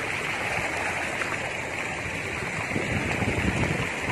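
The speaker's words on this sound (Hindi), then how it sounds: "पीछे का वाटरफॉल तो दिखा रही हूँ" Bhadbhada waterfall near Jabalpur, Madhya Pradesh, pours over rocks in a steady broadband roar of rushing water, close and continuous, with no talking.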